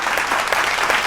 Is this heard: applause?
yes